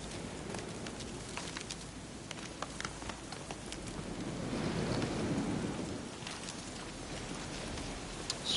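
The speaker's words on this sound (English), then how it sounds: "Storm's coming in." A thunderstorm with rain in the video game The Witcher 3: a dense, continuous rain hiss with a low rolling thunder rumble that swells in the middle, with no talking.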